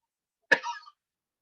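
One sharp cough from an adult with a lingering throat rasp, close and alone in otherwise silent surroundings.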